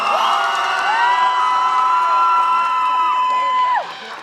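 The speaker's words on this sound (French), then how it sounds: "Ça s'applaudit, ça, très très très très fort." A loud, lively crowd cheers and whoops at a cosplay contest in Lorient, with high shouts and whistles over a steady roar for about four seconds before it drops off sharply at the end.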